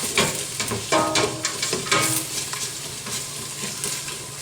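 Bacon and garlic frying together in a pot while being stirred, a steady close sizzle broken by scraping and clacking of the spoon against the metal, with no voices.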